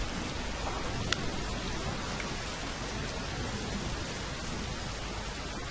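Steady rain falls at night in Call of Duty: Modern Warfare 3, a dense, even hiss that holds unbroken throughout, with one faint sharp tick partway through and no voices.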